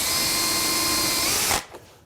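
A power drill fitted with a 1/16 inch bit whines steadily while boring a pilot hole for a plywood tool chest, then stops abruptly and winds down to quiet.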